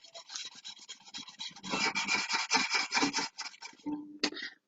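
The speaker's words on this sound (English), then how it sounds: "I just take my duster, my dry duster, and just give it a rub all the way along, giving that a really good clean" A dry duster rubbed firmly along the body of a violin, giving a steady scratchy rasp in repeated strokes, close and fairly loud, with a short pause and a couple of final scuffs.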